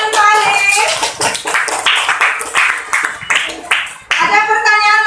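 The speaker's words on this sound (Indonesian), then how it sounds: "tepuk tangan untuk Alif" Short bursts of hand clapping from a group of schoolchildren in a classroom, close and lively, overlapping with children's voices and talk.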